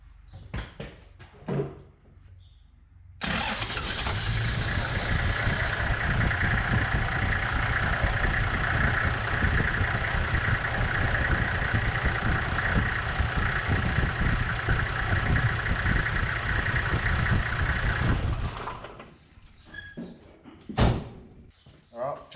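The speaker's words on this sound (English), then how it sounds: "start it up, let the oil run through the engine, fill up that filter" A Toyota 79 Series Landcruiser engine is started after an oil change and idles steadily for about fifteen seconds before shutting off, bracketed by door clunks and handling noises.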